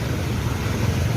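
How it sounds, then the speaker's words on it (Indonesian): Private cars and motorcycles pushing through flash-flood water on a road, a steady low engine rumble mixed with churning, sloshing water, continuous and fairly close with no talking. "mobil pribadi dan sepeda motor ini nekat terobos banjir"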